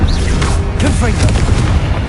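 A Confringo spell explosion from Hogwarts Legacy gameplay: a loud booming blast with swooshing magical effects, packed into a short burst of battle noise.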